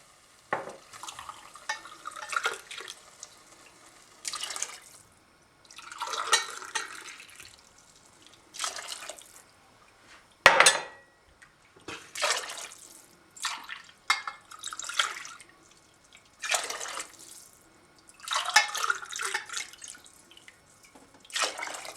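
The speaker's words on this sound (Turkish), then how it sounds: "Evet şimdilik 5 su bardağı su koydum." Water poured into a pot for Turkish lentil soup with turmeric, five glasses in all, splashing in several separate bursts with quiet pauses between them and no talk.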